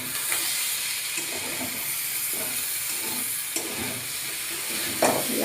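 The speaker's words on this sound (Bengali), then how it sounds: "আলু ভাজা করে দিচ্ছি।" Potatoes fry in a pan with a continuous close sizzle and hiss, broken by occasional scraping stirs and clatters, with nobody speaking.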